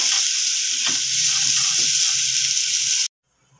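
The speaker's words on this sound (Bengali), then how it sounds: "আলুটাকে একটু ঢাকা দিয়ে সুন্দর করে ভেজে নেব" Potatoes with a little turmeric fry in a covered pan, giving a loud continuous hiss with faint scraping stirs, then the sizzle cuts off abruptly near the end.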